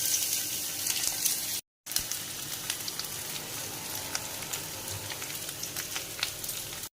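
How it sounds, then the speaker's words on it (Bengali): Chopped onion sizzling in hot oil in a wok, a steady bright hiss with faint crackles that runs almost continuously, broken only by a brief moment of silence. "তেল গরম হয়ে গিয়েছে, এবার এর মধ্যে দিয়ে দেব কুচনো পেঁয়াজ।"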